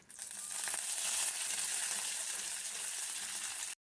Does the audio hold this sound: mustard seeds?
yes